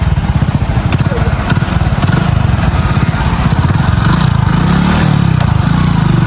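A motorcycle engine runs loud and close with a steady, rapid thumping beat that holds throughout, with no pauses or changes in pace.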